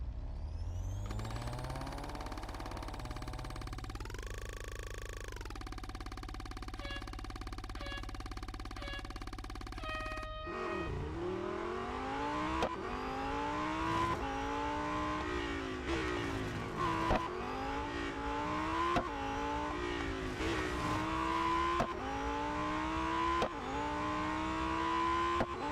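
Lamborghini Huracan STO racing round a short circuit at the Porsche test track in the video game Real Racing 3, engine droning and rising in pitch, then repeated revving as the car shifts through gears, loud and continuous.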